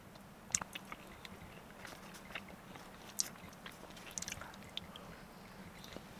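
Bread being chewed at a snowy pine forest campsite, quiet close-up bites and soft mastication with a few sharp crunchy moments, no talking.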